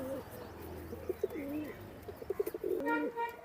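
A pair of Kaldom pigeons, a running breeding pair, coo in a series of soft, close, low warbling notes, with quieter chirps from other birds in the background.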